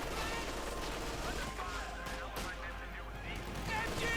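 Dense, continuous gunfire and explosions from a Company of Heroes 2 battle roar at a steady high level, with incendiary armor-piercing rounds pelting troops in a busy game mix.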